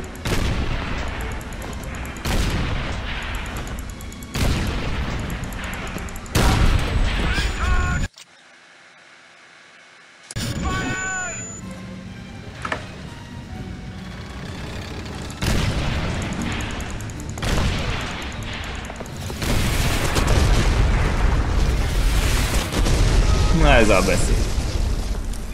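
Call of Duty 3 combat with heavy booming explosions and bursts of gunfire repeating throughout, broken by a brief silent gap, while a player talks over the battle.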